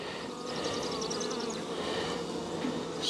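Dense, steady buzzing of many honeybees around an active hive in spring, a continuous close drone with individual bees whining past near the microphone.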